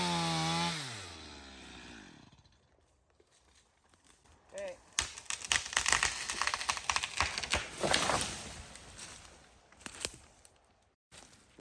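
A chainsaw idles and whines down at the start, then gives way to crackling, snapping wood and crashing as trees come down, with people talking intermittently nearby.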